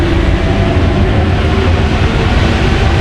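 Inside a moving Paris Metro train on line 7, a loud, constant low rumble and roar of wheels and motors fills the car without pause.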